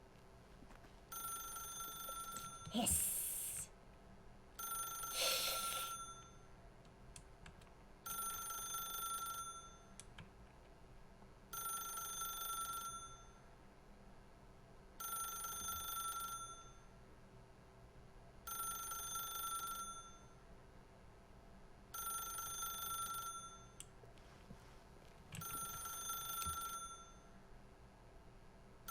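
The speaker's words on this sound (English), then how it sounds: "I don't like when the phone rings." A telephone in The Stanley Parable video game rings in a long run of about eight bell bursts at an even pace, each separated by a short pause, with a brief voice once.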